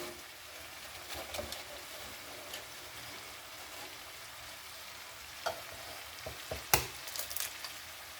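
Shrimp frying in a pan for shrimp and grits: a steady, fairly quiet sizzle that runs throughout, broken by a few sharper clicks and clatters near the end.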